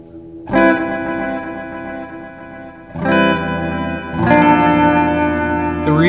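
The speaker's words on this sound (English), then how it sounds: "The reverb is a lot cooler." Electric guitar ringing through a reverb pedal, three strummed chords struck at intervals, each swelling into a long washy, echoing tail, loud and alone without talk.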